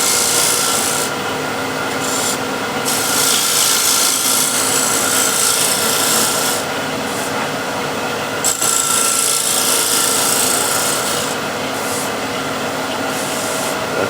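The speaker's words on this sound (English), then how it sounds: "With a spindle gouge, just going to make this foot nice and clean." A spindle gouge cuts a wooden foot on a spinning lathe, producing a loud, continuous close-up rasping hiss with a steady motor drone and brief bursts where the tool bites harder.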